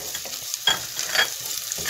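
Chopped onions sautéing in oil in a pan, with a steady close sizzle broken by several louder scraping stirs, no voices.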